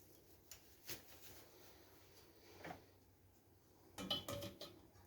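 A few quiet metallic clanks and knocks as a cooking pot is picked up and handled, with a soft cluster of clatter near the end and no voices.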